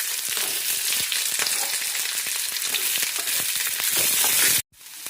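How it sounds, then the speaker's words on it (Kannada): Chopped beans fry in oil in a pan for a village-style palya, a loud, dense crackling sizzle with rapid stirring scrapes that stops abruptly near the end. "ಇವನ್ನೆಲ್ಲ ಫ್ರೈ ಮಾಡ್ಕೋಬೇಕು ಬೀನ್ಸ್ನ ಫಸ್ಟ್ಗೆ. ನೋಡಿ ಫ್ರೈ ಮಾಡ್ತಾ ಇದ್ದೀನಿ."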